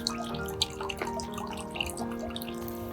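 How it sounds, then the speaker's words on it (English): Running water splashes and drips steadily in a backyard garden fountain where birds bathe, with birdsong calling over the continuous trickle throughout. "One way that we make them comfortable is with the running water in our fountain."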